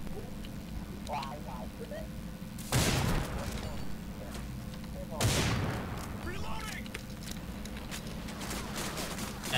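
Gunfire in the shooter game LOS comes as two loud bursts over a steady background hum, with voices talking throughout.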